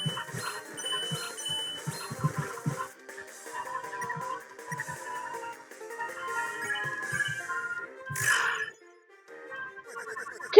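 Chiming bells in the video game Deltarune, bright tones ringing over a soft melodic backdrop, with a sharper bell strike near the end, moderately loud and close.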